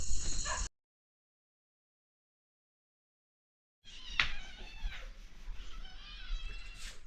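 After a brief burst and a stretch of silence, cats on a farm cry out in wavering, drawn-out yowls that continue steadily to the end, fairly close.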